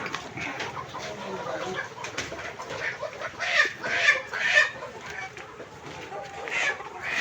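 Layer hens in a low-cost bamboo cage built over a pond cluck and call in short bursts, some louder and close, with a person talking over them.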